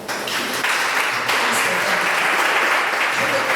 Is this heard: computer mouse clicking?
no